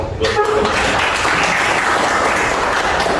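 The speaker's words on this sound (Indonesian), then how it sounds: "Pertama kita tepuk tangan dulu untuk moderator dan kelompok" A classroom audience of students applauds the moderator and their group, a steady dense clapping that stays even and fairly loud for the whole stretch.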